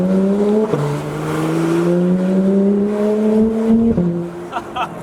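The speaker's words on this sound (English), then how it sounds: "you can hear the valves open and closing" Porsche 991 GT3 engine pulling hard under acceleration, a loud, close, rising mechanical wail that climbs in pitch, drops sharply at each gear shift, then climbs again, with a busy valvetrain texture in the tone.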